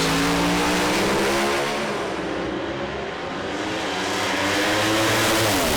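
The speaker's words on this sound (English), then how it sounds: "You can actually see the revs building up on the gauge as Zappia's car there" A loud, sustained drag racing engine roar from a Holden Monaro Pro Slammer, with rising harmonic tones, revving steadily and dropping slightly mid-way before building again, close and continuous.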